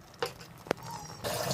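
Water from a grinder jar goes into a simmering chicken curry: a faint, brief splash and pour, with a sharp drip near the middle and a longer trickle at the end.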